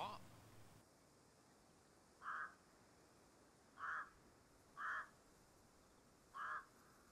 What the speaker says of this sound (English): That bird is annoying.